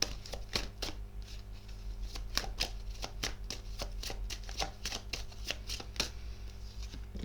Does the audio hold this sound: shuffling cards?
yes